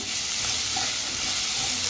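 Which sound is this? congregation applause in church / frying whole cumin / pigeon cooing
frying whole cumin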